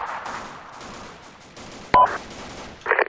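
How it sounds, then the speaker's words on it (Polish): Distant gunfire in a video game firefight up ahead, a few sharp separate shots over a low steady background rumble. "Przed nami się strzelają."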